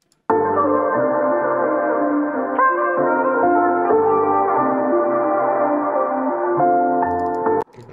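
A pitched-up hip-hop beat sample plays at a faster tempo, with bright, sustained tonal chords that shift every second or so and stay clean and upfront, with no voices over it.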